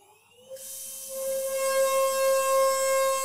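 A DATRON CNC machine spins an 8mm single flute end mill at 32,000 RPM, its spindle whine rising sharply and then holding as a loud, steady, piercing tone with strong high overtones.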